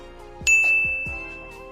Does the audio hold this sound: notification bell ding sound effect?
yes